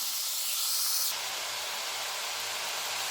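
Bell peppers with spices sauté in a pan for a capsicum gravy, a steady hiss that suddenly grows louder and brighter partway through, then keeps sizzling evenly.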